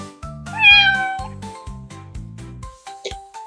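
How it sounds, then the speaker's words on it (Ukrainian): A cat gives a couple of clear meows over a bouncy children's tune with a repeating bass rhythm and light chiming accents. "Це кіт."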